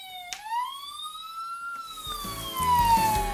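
Toy ambulance siren sounding near and clear, a rising and falling electronic wail that sweeps up then slowly drifts down, with a rattling mechanical clatter joining toward the end; no speech.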